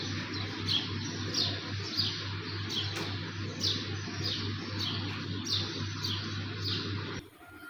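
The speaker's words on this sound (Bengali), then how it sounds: "পাখিতে কেঁচর মেচর ডাক শুরু করে দিছে।" Birds chirp and tweet in repeated short calls through an early morning, steady and fairly clear over a constant low hum, stopping near the end.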